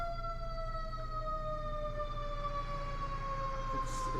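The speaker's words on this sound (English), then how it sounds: "We can't control the sirens" A wailing siren drones steadily in the distance with a slowly falling pitch, over low background rumble and no speech.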